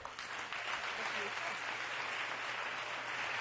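A live audience at a Halloween storytelling show on the Millennium Stage breaks into sustained applause for Sheldon Scott, dense clapping that holds steady for several seconds with an excited crowd feel.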